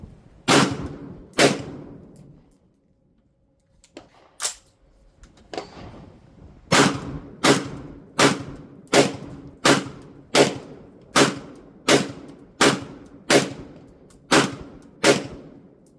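DIY heat shrink anti-drone ammo rounds go off outdoors in sharp, loud gunshots: a few spaced shots with a pause, then a steady run of about a dozen evenly timed blasts, each with a short decaying echo.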